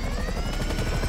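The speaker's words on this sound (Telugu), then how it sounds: "వచ్చేస్తున్నారు వాళ్ళు హెలికాప్టర్స్లో" A helicopter in the video game GTA V beats overhead with a fast, loud, steady rotor chop, heard alone for a brief moment.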